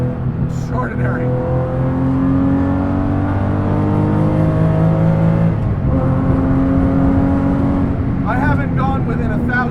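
Air-cooled Guntherwerks 400R, a rebuilt 25-year-old Porsche 911, driving at pace with a loud, steady engine drone whose pitch climbs and holds high toward an 8,200 rpm redline, briefly dipping midway; a voice talks over it.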